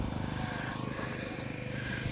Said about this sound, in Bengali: ইঞ্জিন চালিত ঘোড়ার গাড়ি ঘোড়া থাকলেও দেখেন ইঞ্জিনে শব্দ করতেছে